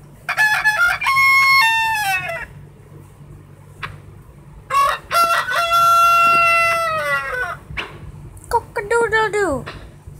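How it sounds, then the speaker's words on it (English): Rooster crowing in the Toca Farm video game: three long, loud harmonic crows with short pauses between, the last one shorter and falling in pitch, over faint background noise. "Cock-a-doodle-doo!"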